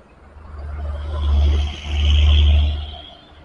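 Dewi Sri intercity bus pulling out of a terminal at night, its deep diesel rumble swelling twice as it accelerates, close and loud, then fading as it moves off.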